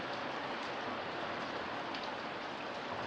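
Rain falls in a steady, dense hiss that stays even from start to finish, with no voices over it.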